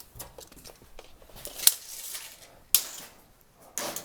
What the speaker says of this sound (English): I got a tape measure over here somewhere.